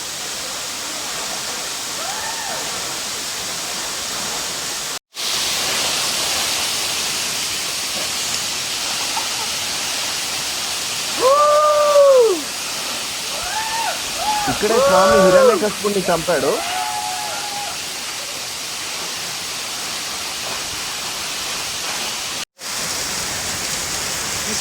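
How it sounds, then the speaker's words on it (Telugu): Waterfall pouring down from above at Ahobilam temple in the Nallamala forest, a steady broadband rush throughout, with people talking over it. "ఇంకా ఇదిగోండి పైనుంచి ఎక్కడి నుంచో వాటర్ ఫాల్ పడుతుంది"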